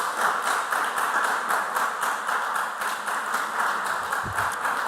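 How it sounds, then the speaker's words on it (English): Audience applause greets quiz contestants coming on board at a school semi-final quiz competition, a steady dense clapping that holds evenly throughout with no speech over it. "Please, a round of applause to all our contestants coming on board"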